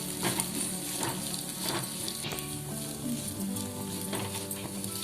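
Flattened rice upma (atukula upma) fries in a pan with a steady, close sizzle, broken by soft scraping strokes as it is stirred, and no talking.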